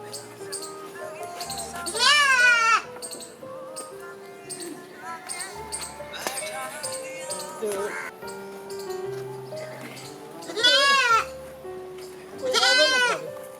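A goat bleats several times, three strong wavering cries spaced across the stretch, near and loud, with people talking throughout between the calls.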